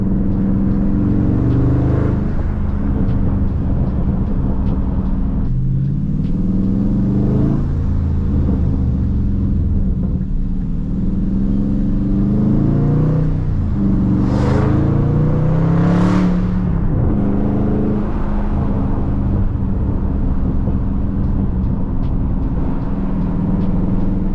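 Dodge Charger 392 Scat Pack V8 exhaust revving and rising through the revs several times, with sharp pops and crackles, loud, close and continuous, no voices.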